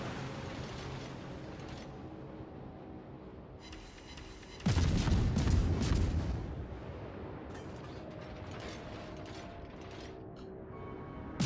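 A torpedo launch from a warship in the World of Warships naval game, with Z52 in range: a sudden loud, broad rushing burst lasting over a second, rising out of steady engine and sea rumble, then easing back down.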